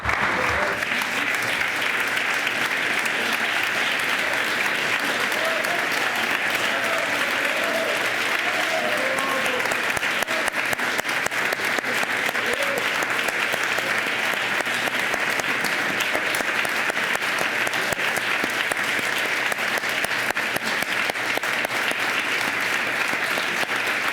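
Sustained, dense applause fills the Quebec National Assembly chamber, many hands clapping steadily at even volume throughout, with faint voices mixed in.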